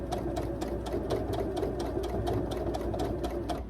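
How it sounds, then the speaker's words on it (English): A sewing machine stitches a quilt in short bursts as the fabric is turned around a gentle corner, a steady close mechanical whir with rapid needle ticks and no voices. "Do a little bit, bring it to the front, hold it down, stitch, pause, do it again, pull it up, hold it down, stitch"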